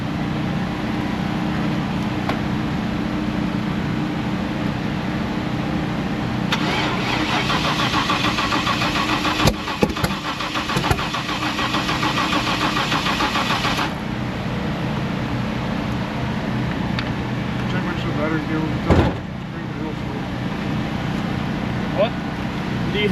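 Car engine cranks and catches during a Pinks drag race event, a running engine holding steady underneath with brief bursts of starter and mechanical noise, while people talk nearby.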